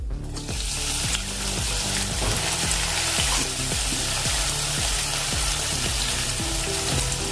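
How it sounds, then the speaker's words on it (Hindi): Marinated soybean and spinach frying in half a spoon of hot oil, a steady loud sizzle that carries on throughout with no talking. "जो हम मैरिनेट किया था सोयाबीन और पालक को, वो इसमें डाल देंगे"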